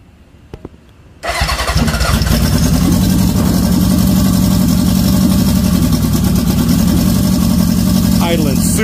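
Honda engine starting after a short quiet stretch, then settling into a low, steady idle with a rhythmic chug; close and loud, with people talking over it.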